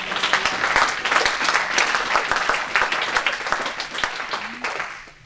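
A church congregation claps and applauds together in a steady, lively burst of many hands that fills the room, fading slightly toward the end.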